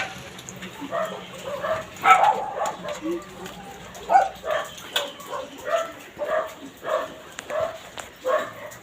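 A small Shih Tzu dog yips and barks repeatedly in short bursts nearby, with people talking in the background.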